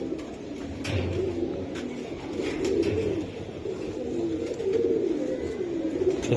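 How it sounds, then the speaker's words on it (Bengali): Racing pigeons coo in a steady, throaty rumble, with overlapping bursts continuing throughout at close range and moderate loudness, against no speech. "এই যে দেন আরেকটা কবুতর দেখেন কালার দেখেন"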